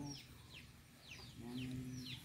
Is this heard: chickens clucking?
yes